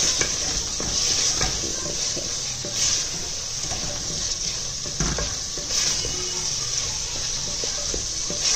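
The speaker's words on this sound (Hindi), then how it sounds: "इनको चम्मच हिलाना है" A spoon stirs half a kilo of potatoes in sizzling masala in a pot, the frying hiss steady while the spoon scrapes and clacks against the metal at irregular intervals, close and moderately loud.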